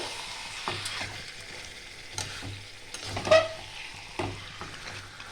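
Chicken fries over medium-low flame in a pan, stirred repeatedly with scraping, clattering strokes over a low continuous sizzle, close and clear.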